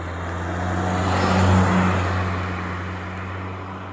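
A 2003 VW Jetta 1.8T accelerates through countryside turns, heard from inside as a steady engine drone with road rumble that swells to a peak midway, then eases back.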